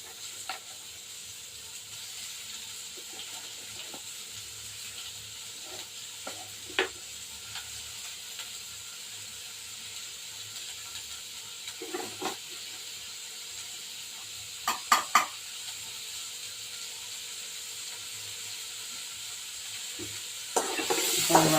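Onions and curry leaves sauté in a pan for a drumstick gravy, a soft steady sizzle broken by occasional spatula scrapes and clinks, with a louder knock near the end.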